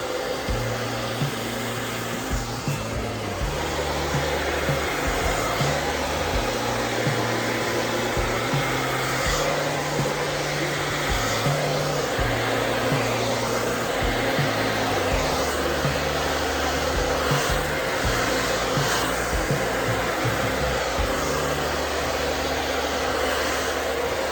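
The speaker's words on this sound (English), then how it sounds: "Now we can take this off and blow dry both sections together." A hair dryer blow drying long 4c hair in a salon, a loud steady whooshing drone with a low motor hum that wavers slightly as the airflow moves, running continuously throughout.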